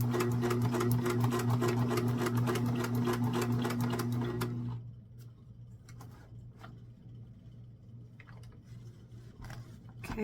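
A sewing machine running a short straight stitch through a paper-pieced log cabin quilt block, a rapid, even needle chatter for about four and a half seconds, then stopping, leaving a low motor hum and faint handling clicks.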